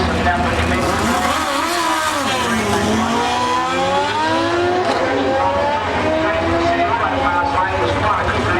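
Drag racing motorcycles launch from the start line on a quarter-mile strip, engines roaring and revving with rising and falling pitch sweeps over a loud, continuous rumble, while a commentator talks over the noise.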